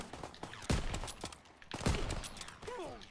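Gunfire in the World War II shooter Call of Duty: WWII during the Operation Cobra mission, two heavy bursts close together with a lighter shot near the end, amid game noise and background voices.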